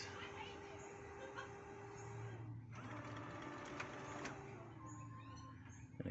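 A Brother MFC-9330cdw color laser printer cycles its internal mechanism after being closed, giving a steady motor whir with rhythmic clicks and a pitch drop midway, before stopping on a false paper jam error.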